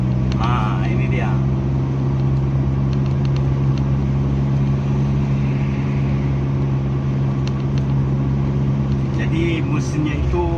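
Daihatsu Feroza engine running after HCS installation, a steady, dense low hum that continues throughout from close range, with speech and brief rattles from the cabin over it.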